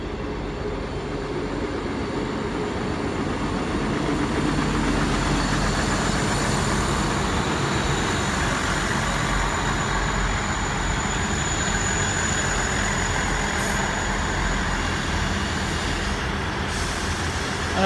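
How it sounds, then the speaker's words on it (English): A double South Western Railway diesel service led by unit 159012 arrives at Exeter St David's bound for London Waterloo, a steady, loud engine rumble and rolling wheel noise with a faint high brake whine throughout, no voices. "It's a double South Western Railway service coming in,"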